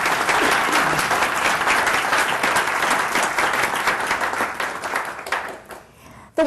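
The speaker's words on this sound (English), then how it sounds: "I think we could pause for applause for the City Club" An audience at a courthouse centennial event claps for the City Club, a loud, dense and steady round of applause that thins and stops near the end.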